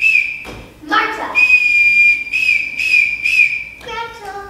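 A piercing whistle sounds in a string of distinct blasts of varying length, some with a trilling warble, blown to summon the children in a household setting; no one talks over it.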